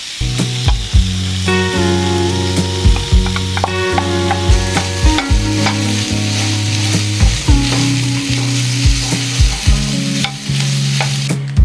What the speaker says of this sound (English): I'm going to go ahead and put the veggies in here